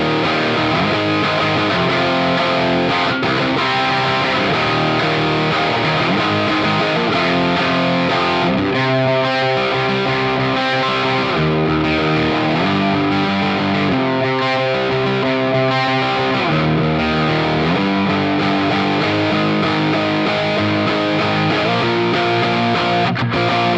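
An electric guitar played through a Valeton GP-5 modeler with a distorted tone and a small amount of reverb plays chords and riffs, loud and continuous, with no talking.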